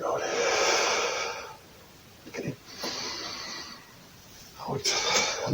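Breathing during a stretching exercise class: long audible exhales and sharp breaths through the nose, repeated in slow cycles at close range with pauses in between.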